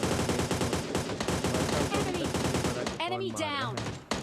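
Rapid automatic gunfire in the mobile shooter PUBG Mobile Lite, a dense run of loud, close bursts that carries on for about three seconds before a voice briefly speaks over the fading shots.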